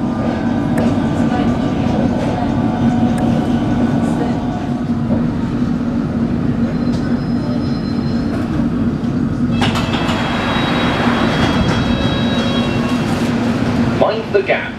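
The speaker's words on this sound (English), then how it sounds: "This is a district line train to Wimbledon." A London Underground District line train, Bombardier S7 stock, rumbles steadily with a droning hum and rail noise, joined midway by brighter screeching and rattling as it moves.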